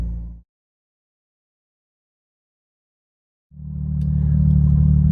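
A Porsche 911 GT3 RS track car from the 991.2 generation, with a 4-litre six-cylinder engine, rumbles briefly, cuts to silence for a few seconds, then returns with a building, close engine drone that swells louder toward the end.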